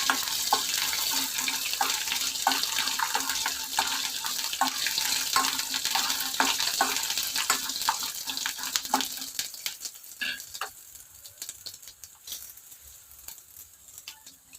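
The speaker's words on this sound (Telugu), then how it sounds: "పల్లీలు కొద్దిగా వేగినాక శనగపప్పు వేస్తున్నాను" Peanuts and chana dal fry in hot oil with dried red chilies for tamarind pulihora, a steady close sizzle broken by scattered crackles and stirring clicks, easing down toward the end; no one speaks.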